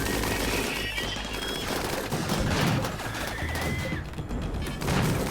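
Automated turrets in RimWorld pour sustained rapid gunfire into attacking deserters, a dense continuous rattle of shots and impacts that stays loud and unbroken throughout.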